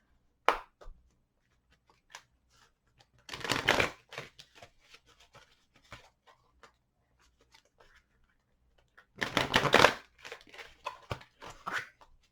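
Two quick bursts of glossy tarot cards being shuffled, riffled crisply up close, separated by soft handling clicks and taps.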